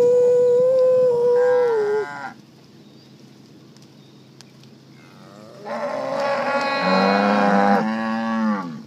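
Two long, loud moos from nearby Braford and Brangus cattle, separated by a few seconds of quiet, the second deeper and drawn out.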